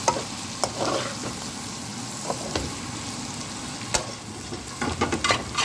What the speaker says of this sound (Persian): ادویه زردچوبه، دارچین، فلفل، تخم گیشنیز و لیمو امانی است و بهش اضافه میکنم و با هم مخلوطشون میکنم